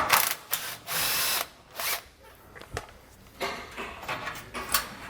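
A power tool with a 15mm socket spins off the sway bar bolts while a Roadmaster rear anti-sway bar is fitted to a 2014 Ford van, making several short whirring bursts separated by brief pauses.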